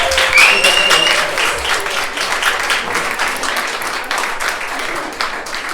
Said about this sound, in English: I want you guys to give a round of applause for Arghavan and all the art that she's been